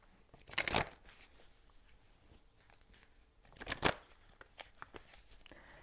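Oracle cards being shuffled by hand in a quiet room, two louder riffling bursts early and midway with softer card handling and taps in between.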